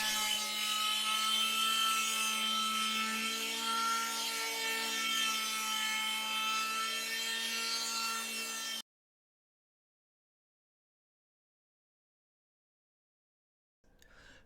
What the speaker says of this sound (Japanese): 最後に全ての構造材に電気ガンナーをかけて仕上げます。